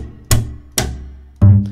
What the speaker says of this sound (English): We also have a bunch of effects that we can get to via key switches.